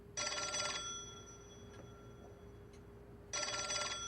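A telephone rings in the game L.A. Noire, two bursts of a bright electric bell close by, separated by a quiet pause.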